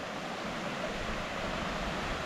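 Steady rush of water from the top of a waterfall on a calm day at an Australian day visitor area, a broad continuous wash of noise with no talking over it.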